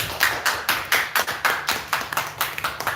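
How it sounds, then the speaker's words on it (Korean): A youth worship congregation in a church claps hands together in steady, moderately loud applause for a few seconds, with no voices over it. "우리와 함께 박수로 한번"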